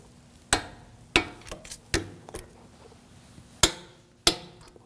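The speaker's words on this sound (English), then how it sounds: "Now torque these bolts to 74 foot-pounds" A torque wrench tightens bolts during a front CV axle replacement on a 2001–2009 Volvo S60, giving about half a dozen sharp, close metallic clicks and knocks at irregular intervals over a quiet background.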